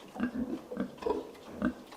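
Several pigs grunting and oinking at a feeder on a farm, a steady run of short, rough grunts repeating every half second or so at moderate distance, with no talking over them.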